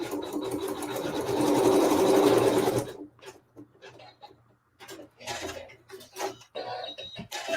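Sewing machine stitching a tack down during a quilting workshop, a steady whirring run of stitching for about three seconds, then quiet with scattered light sounds and chuckling.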